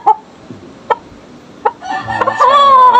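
A six-month-old gamecock rooster gives several short clucks at an even pace, then breaks into a loud, drawn-out crow near the end, close by with light farmyard noise beneath.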